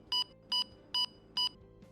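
An underground water detector's alarm gives four short, evenly spaced electronic beeps, crisp and tonal against a quiet background, ending with a fainter fifth blip.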